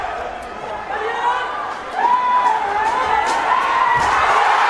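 Crowd cheering at the ISTAF Sepaktakraw World Cup men's regu final between Japan and India: a dense roar of voices and whoops that grows louder partway through, with a commentator talking over it.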